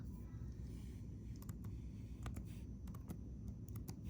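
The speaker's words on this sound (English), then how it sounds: "So I'm just typing in using my numbers." Scattered Chromebook keyboard clicks, some in quick bursts, tapped out unevenly over a steady low background hum.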